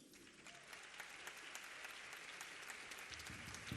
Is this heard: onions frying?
no